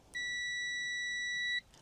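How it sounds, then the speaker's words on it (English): A multimeter's built-in speaker gives a single continuous high-pitched beep during a continuity test, lasting about a second and a half in a quiet room before cutting off sharply. "So your meter is going to make a beeping noise"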